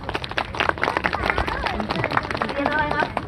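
Crowd applause and clapping from spectators at a street monkey performance on a temple approach road during New Year, dense rapid claps with some voices mixed in, moderately loud throughout.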